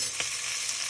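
Minced garlic stirred into a pot of beef stew, a brief, steady sizzle and hiss lasting about a second, close by, with no talking.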